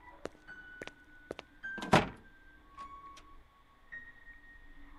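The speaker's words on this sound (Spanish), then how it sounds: "es que se escucha la puerta y viene" A door sound in the horror video game Nightmare of Escape: a single loud thud-like impact near the middle, with scattered sharp clicks before it and faint tonal ambience throughout, no talking.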